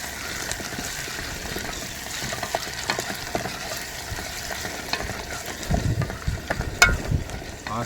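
Onion, garlic and ginger fry with Maggi noodles in a pan at a desert campsite, giving a steady close sizzle with scraping stirs and louder bursts of crackle toward the end.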